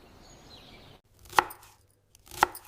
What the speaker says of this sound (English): Cutting green chilies.